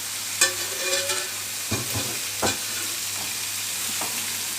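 Meat sautés in a hot pan with no added fat, a steady close sizzle running throughout, broken by a few brief scrapes and knocks of a stirring utensil.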